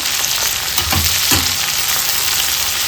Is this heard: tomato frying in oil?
yes